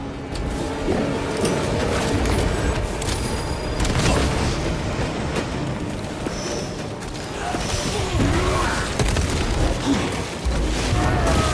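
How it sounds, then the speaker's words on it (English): A crack grenade detonates in Warhammer 40K Space Marines 2 amid dense, loud combat noise, with heavy booms and rumbling blasts layered over constant mechanical clatter and gunfire. "Using crack grenade! Another automaton defeated."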